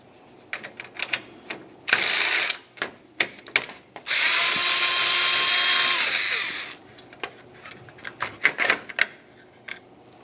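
A power tool removing a 10mm bolt from the grille of a 2000-2006 Chevrolet Tahoe, short ratcheting bursts and clicks, then a sustained whirring spin for a few seconds, followed by more scattered clicks and handling noises close by.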